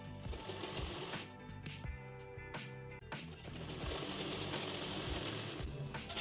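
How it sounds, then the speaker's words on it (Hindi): A sewing machine stitching blouse fabric, close mechanical whirring runs that start, pause briefly and resume with a fast rattling clatter, continuing steadily to the end. "इसे उल्टा रख लेंगे और फिर इसे स्टिच कर लेंगे।"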